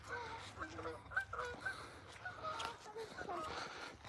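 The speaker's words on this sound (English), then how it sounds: "Those are Canadian geese, I believe." Canada geese honking in scattered bursts, fairly faint and somewhat distant, with a few overlapping calls over low background noise.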